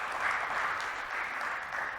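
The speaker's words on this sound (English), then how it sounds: "Yeah, round of applause." An audience at a trading seminar applauds, a steady patter of many hands clapping at moderate loudness for about two seconds with no break.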